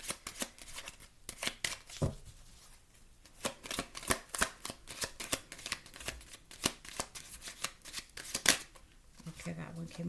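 Tarot cards shuffled by hand in a steady run of crisp riffling bursts and soft slaps, close up and fairly quiet, with a voice talking over part of it.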